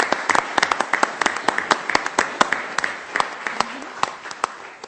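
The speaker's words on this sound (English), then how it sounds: "give you a round of applause" Applause at a city council meeting in Sioux Falls as students are welcomed, a modest group clapping with distinct individual claps audible, close and fairly loud, fading slightly toward the end.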